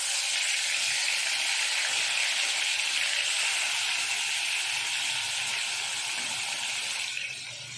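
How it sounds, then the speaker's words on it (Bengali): Rohu fish pieces frying in hot white oil in a wok, giving a dense, steady, loud sizzle that holds evenly and eases off slightly near the end, with no voices. "কড়াইতে সাদা তেল দিয়ে দিয়েছি মাছগুলো ভাজার জন্য"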